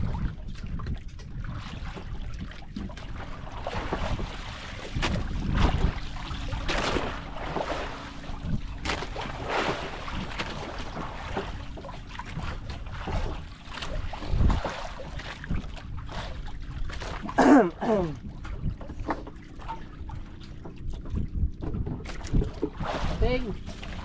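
A small fishing boat on open sea, with water sloshing, wind and engine rumble as the craft comes in, while people talk over it throughout.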